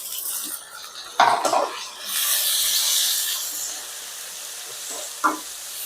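Onions and curry leaves sautéing in a kadai, with a sudden burst of clattering spoon strokes, a steady hissing sizzle, and a lone clink near the end.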